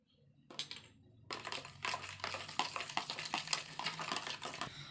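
Spoon clinking and scraping against a container while sugar is stirred into a mixture, a rapid run of light metallic taps and scrapes, close and fairly quiet, with no voices.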